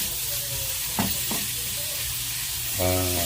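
Garlic drops into hot oil in a pan for pinakbet, giving a steady close sizzle with a few sharp clinks of stirring and a louder burst of frying near the end.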